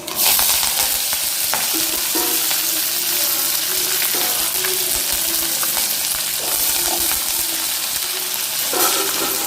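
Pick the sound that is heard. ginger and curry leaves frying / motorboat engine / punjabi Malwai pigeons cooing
ginger and curry leaves frying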